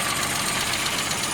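A car engine with a rebuilt carburettor, a 1.4 ohm coil and its original distributor idles steadily after a tune, a close, even, continuous hum that holds for just over a second with no talk.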